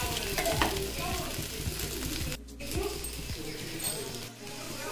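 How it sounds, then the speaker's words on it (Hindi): Pulao frying in a pan makes a steady sizzle with scraping and stirring clatter, plus a brief quiet gap partway through. "सो पुलाव को थोड़ा थोड़ा सा ना फ्राई कर रहे हैं।"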